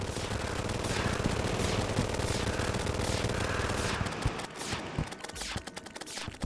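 Rapid, dense bursts of gunfire from the Candy Corn Rifle in Terraria rattle continuously and loudly, thinning into separate shots toward the end.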